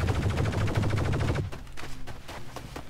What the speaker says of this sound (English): You're shooting the tree, dude.